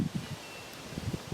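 Wind gusts rustle leaves in soft, uneven bursts, with faint microphone buffeting and no voices.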